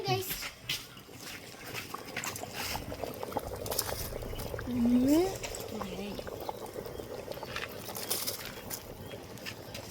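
Water bubbles at a steady boil in a pot of oil and water for biryani rice, with muffled voices and kitchen noise behind it.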